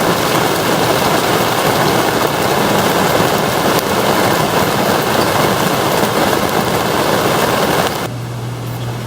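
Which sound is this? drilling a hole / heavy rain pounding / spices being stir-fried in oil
heavy rain pounding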